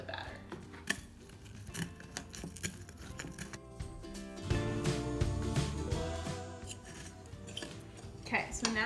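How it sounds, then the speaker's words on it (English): Funfetti sprinkles being mashed on a plate with a utensil, rapid scraping and clinking taps against the dish, close and busy, with speech faint in the background. "I'm going to mash it on this plate and then add it into the batter."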